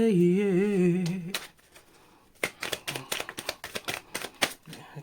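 A deck of tarot cards is shuffled by hand in a quiet room, giving quick rhythmic riffling taps and flutters in short bursts after a brief hummed or sung voice at the start.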